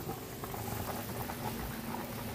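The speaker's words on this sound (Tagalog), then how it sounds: "Magpiprito na tayo ng isda." Fish frying in hot oil in a pan, a steady dense crackle and sizzle that runs evenly throughout at low level, with no talk.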